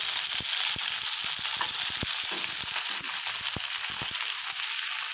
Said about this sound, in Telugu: ఉల్లిపాయ పచ్చిమిర్చి అయితే వేసుకోవాలి ఇలా వేసుకుని వేపాలండి